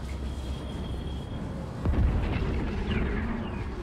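A spaceship blows up in Homeworld 3, a sudden deep boom about halfway through that swells into a rumbling, crackling explosion over the ongoing low hum of space battle ambience.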